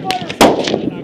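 Gunfire during a Marine platoon assault exercise on a live-fire range: several sharp shots over about a second, one loud close blast in the middle, with faint radio-like voices and noise behind.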